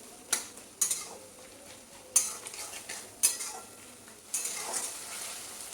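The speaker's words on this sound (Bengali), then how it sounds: "পেঁয়াজটা ভাজতে ভাজতে দিয়ে দেবো টমেটো" Onion and tomato fry in a pan for a mutton curry, a soft steady sizzle broken by several sharp clinks and scrapes of a spoon stirring against the metal pan.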